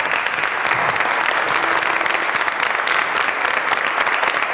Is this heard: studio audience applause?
yes